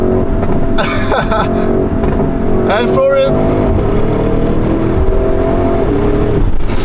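Porsche Cayenne Turbo GT performance SUV engine revving loudly up close, with rising and falling pitch sweeps and crackling exhaust burbles, while someone talks excitedly over it.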